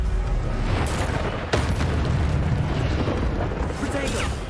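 The Incendio fire spell is cast in the Hogwarts Legacy video game, a loud booming burst followed by crackling, rushing fire and a second sharp blast.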